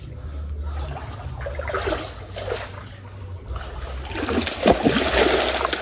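Water in a river being splashed and slapped repeatedly to drive fish, with sloshing and trickling, outdoors with a low engine-like rumble underneath.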